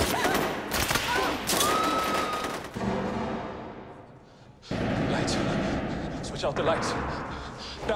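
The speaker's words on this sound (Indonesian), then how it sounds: "Tembakan kini telah dilepas." Bursts of gunfire and blasts from an action scene in the film Hotel Mumbai, loud rattling volleys that drop away briefly before another heavy round of shooting resumes.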